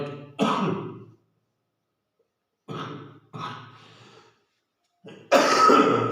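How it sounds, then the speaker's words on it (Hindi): Several harsh coughs and throat-clearing bursts, close by, separated by short silences, the last one loudest. "खांसी आ रही है।"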